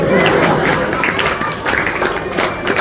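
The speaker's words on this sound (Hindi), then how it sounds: "एक बार जोरदार तालियां बजा दी" An audience at a kavi sammelan poetry gathering claps loudly and steadily, a dense wash of hand claps with crowd murmur mixed in.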